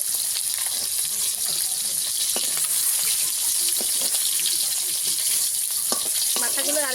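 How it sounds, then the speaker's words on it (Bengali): Golden fish from a pond frying in hot oil, a steady, close, dense sizzle throughout with occasional spatters and faint utensil movement. "লাল লাল করে ভেজে নেব ভেজে নিয়েছি তুলে নেবো"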